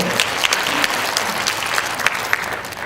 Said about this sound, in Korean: 여러분 박수 많이 해주세요.